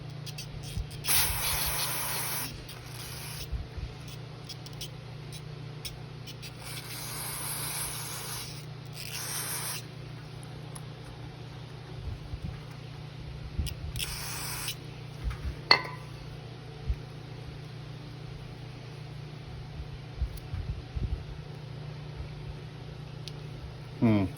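Several hissing bursts of aerosol cleaner sprayed into the carburetor of a Troy-Bilt TuffCut 210 mower, a couple of seconds each, separated by pauses over a steady low hum.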